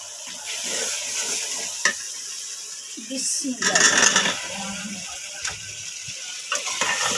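Masala fries in a pan, sprinkled with water, while it is cooked down for potato pakoras in a village kitchen: a steady close sizzle with sharp clinks and scrapes of stirring.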